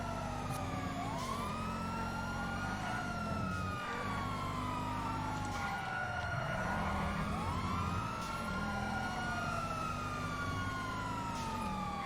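Several emergency sirens wail and overlap in a video game street scene, rising and falling in repeated sweeps over a constant engine rumble. They are loud and sustained, with no voices over them.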